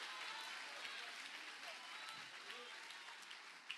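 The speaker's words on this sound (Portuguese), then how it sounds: "Pode aplaudir junto com quem está aplaudindo." A church congregation applauds, giving a dense, steady wash of clapping from many hands that is fairly distant and soft and lasts throughout.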